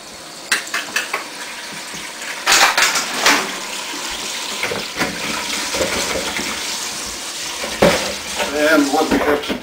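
Mini peppers are washed under running tap water, a steady splashing stream with occasional clatters and bumps of produce against a sink or bowl, under intermittent talk.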